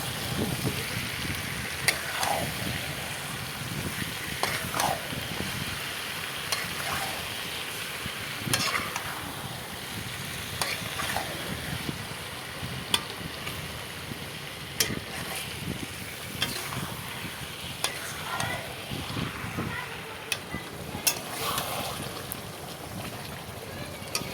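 Chicken with potato and onion frying in oil, a continuous sizzle with stirring and scraping strokes under a noisy, stormy backdrop.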